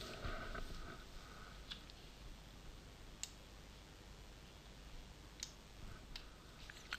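Computer mouse clicking while cells are selected in an Excel spreadsheet: a few sparse, quiet clicks spaced irregularly over a steady low background hiss, with no talking.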